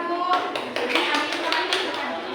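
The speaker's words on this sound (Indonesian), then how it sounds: "Tepuk tangan buat kelompok 1." A classroom group applauds a student group after a news-report presentation, a scattered patter of claps from many hands with uneven bursts, mid-distance and fairly steady, with faint voices underneath.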